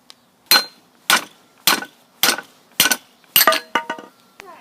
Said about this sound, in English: We'll try our best to drive this handle out of here.